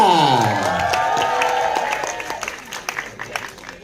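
An audience at the launch and press conference for an Indonesian film claps and cheers, the applause fading as music plays over it.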